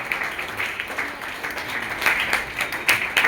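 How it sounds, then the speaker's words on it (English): Audience applause for participants at a school inter-house science quiz competition, a steady wash of clapping from a crowd with brighter bursts near the end, moderately loud and without talk. "big hand of applause for all the participants and for the audience also"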